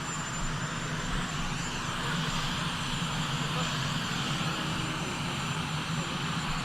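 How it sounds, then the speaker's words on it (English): A constant loud helicopter engine roar and rotor wash drone throughout, broad and unbroken, drowning out any quieter sounds nearby. "A little louder, helicopter, a lot of noise."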